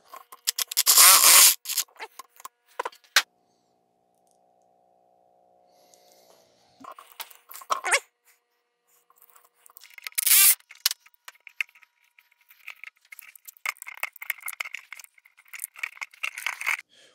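Intermittent snips and scraping rattles come from cutting a rubbery wrapping off wire leads on a Kohler generator, arriving in close bursts separated by quiet gaps.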